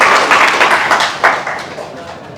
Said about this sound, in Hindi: भैया जोरदार तालियां बजाइए।